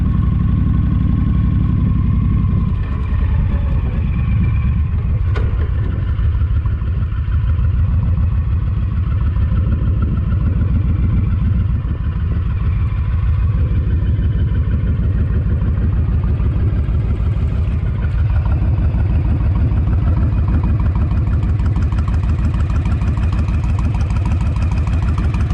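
A Honda VTX 1300 motorcycle engine idles close and loud with a steady, deep, even rumble that runs without a break.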